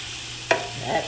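Food sautés in a skillet for spaghetti with a steady low sizzle, then a single sharp clink of a utensil and a brief stirring scrape. No one speaks.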